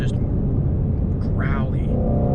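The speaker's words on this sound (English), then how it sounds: "And just listen to that exhaust back there." A Ford Shelby GT500 on the move puts out a deep, steady exhaust rumble from the rear, a low growl that runs beneath a person speaking inside the car.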